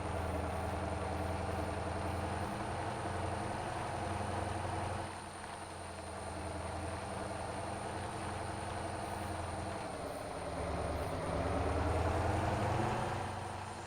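Heavy truck engine idling in the driving game Motor Town, a steady low rumble with a continuous droning hum that swells slightly toward the end, heard alone without talk.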